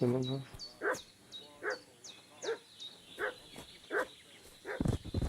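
A dog in Kingdom Come: Deliverance II barks at a steady pace, about seven separate barks spaced roughly a second apart, fairly far off, with a quiet high chirping above and a thump at the end.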